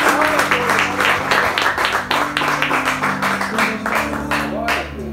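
A church congregation claps during a Portuguese-language service after a prayer, sustained rhythmic clapping over a low held organ or keyboard drone, with voices mixed in beneath.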